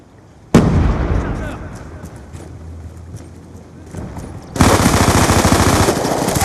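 Black Ops 2 match: a sharp grenade blast opens, followed by scattered shots, then a sustained burst of rapid automatic gunfire. An announcer voice speaks over the middle.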